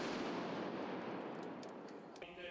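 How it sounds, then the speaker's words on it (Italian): Blank rounds fired in salute by Tyrolean Schützen at an official ceremony, heard as a dense, loud, sustained roar of broadband noise that tapers off near the end. "Cerimonia ufficiale con tanto di spari a salve degli Schützen tirolesi."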